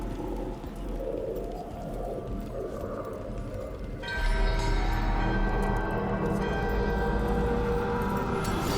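A resonant bell tone rings out and lingers during a ritual in the fantasy video game Dragon Age, rising abruptly over a dense ambient background of bird-like chatter and low rumble.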